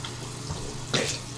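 Water runs briefly from a sink faucet with a short splashy burst near the end, heard close in a home bathroom or kitchen without speech.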